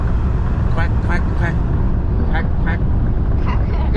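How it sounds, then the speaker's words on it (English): Ducks quacking several times in short bursts, fairly close, over a steady background rumble of engine or traffic noise. "What does the duck say in English?"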